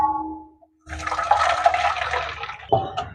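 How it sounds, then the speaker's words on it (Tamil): Hot water is poured into rice flour in a bowl for Jaffna-style puttu, a close, splashy stream lasting about two seconds, followed by a brief second splash. "இனி இதை சுடுதண்ணியை ஊற்றுவோம்."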